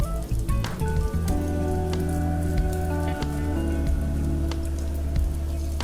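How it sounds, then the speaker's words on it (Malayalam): Egg-dipped bread slices frying in hot oil for sweet toast, a steady crackling sizzle with scattered pops, close and continuous. "ഓരോ പീസ് ബ്രെഡ് എടുത്ത് മുട്ടക്കൂട്ടിലേക്ക് 2 സൈഡും ഒരുപോലെ സ്പ്രെഡാവുന്ന വിധത്തിൽ മുക്കിയ ശേഷം ചൂടായ എണ്ണയിലേക്ക് വെച്ച് കൊടുക്കാം"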